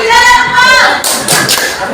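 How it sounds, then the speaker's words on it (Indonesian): Participants at an Indonesian teachers' workshop clap after a request for applause, a brief, loud burst of hand claps rising after a voice fades, close and roomy. "tepuk tangan buat kita dong"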